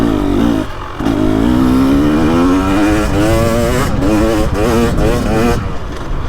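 A 2023 KTM 300XC two-stroke dirt bike revving hard in fourth gear, a loud close engine wail whose pitch climbs steadily with a brief dip and recovery, with someone talking over it.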